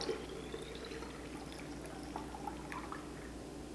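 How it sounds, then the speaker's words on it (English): Filtered water pours into a bottle, a quiet continuous trickle and splash that stays faint and steady throughout, with no talking. "So I'm just going to fill the bottle."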